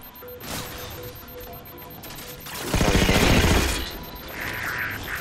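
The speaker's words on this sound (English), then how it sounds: "this guy threw a grenade" A grenade bursts in the video game Halo 4, a heavy crashing blast that rises midway and rolls on for about a second amid scattered gunfire and mechanical clatter.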